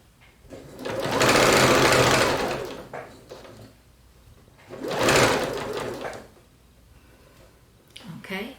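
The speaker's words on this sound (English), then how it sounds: "I'm going to sew until I get to that line" A sewing machine stitches a quilt in two sustained bursts of loud, rapid mechanical whirring, separated by a pause with a brief voice and handling noises.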